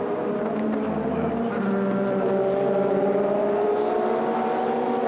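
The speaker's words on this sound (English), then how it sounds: "the Aston Martin is on pit lane." An Aston Martin race car at the Asian Le Mans Series 4 Hours of Abu Dhabi rolls down the pit lane, its engine a steady, sustained drone at close range over continuous background noise.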